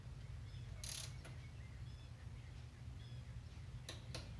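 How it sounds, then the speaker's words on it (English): A torque wrench ratchets on bolts being tightened, giving a faint continuous clicking pawl texture with a few sharper metallic clicks, close by over a steady low hum. "Let's see how much it'll turn here before it clicks on the first bolt that I've already torqued once."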